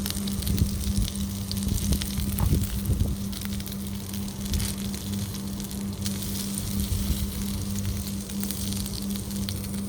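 Sucuk sausage sizzles steadily in a hot pan, a continuous crackling hiss with some louder pops early on, close and fairly loud, with no talking.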